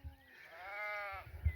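A single sheep gives one clear, drawn-out bleat at a hillside grazing place among juniper trees, heard at moderate distance over quiet surroundings with faint low rumbles.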